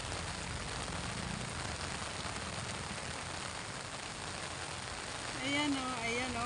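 Rain falling outdoors near a church, a steady hiss of drops on surfaces throughout, with a brief sound of movement near the end and no talk.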